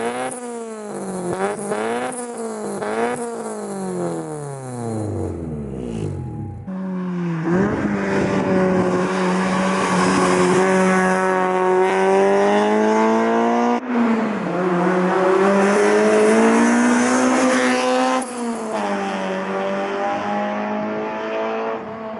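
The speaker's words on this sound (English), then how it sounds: "in-car footage, so you can hear the exhaust as we drive through, driving out of the canyon" A Honda Civic's B18C engine and aftermarket K-Tuned exhaust drone loudly from inside the cabin while driving out of a canyon, revving up through gears with rising pitch, shifting, then pulling steadily again.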